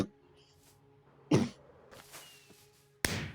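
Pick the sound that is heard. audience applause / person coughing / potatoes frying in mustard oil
person coughing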